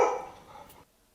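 A single sharp dog bark, used as a sound effect in a told story, rings out at the start and quickly drops into silence.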